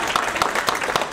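An audience applauding at an evening event, a steady patter of many hands clapping together, moderately loud throughout.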